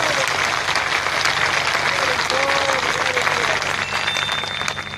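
A large crowd at a political rally bursts into sustained, dense applause and cheering that holds loud for several seconds before easing slightly.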